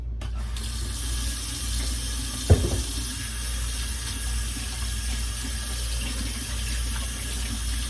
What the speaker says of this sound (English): I'm gonna wash my hands again.